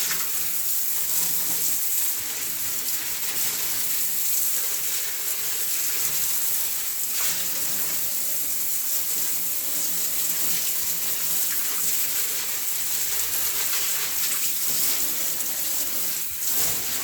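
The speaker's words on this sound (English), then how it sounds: "turn on your shower head," A shower head sprays water continuously onto a potted habanero plant, a steady, close hiss of falling spray without pause.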